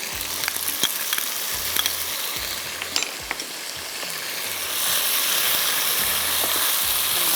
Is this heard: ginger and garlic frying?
yes